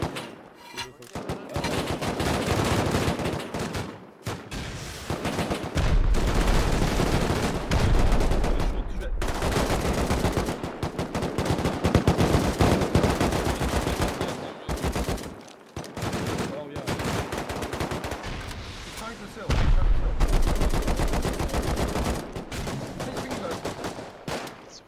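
Sustained bursts of automatic gunfire from players in the survival game Rust, loud and dense with rapid overlapping shots across most of the stretch, broken by a few brief lulls, with voices talking over it.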